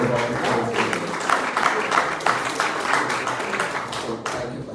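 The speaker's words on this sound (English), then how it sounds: "very loud applause to our neighboring country, Lithuanian founder" Loud applause fills a room at a startup pitch session as a founder is welcomed, a dense mass of clapping with a few sharper hand claps standing out, sustained throughout.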